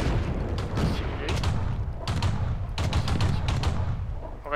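Tank cannon shots in the video game World of Tanks, several loud, broadband booms with reverberant tails spread across a few seconds, with battle noise in between.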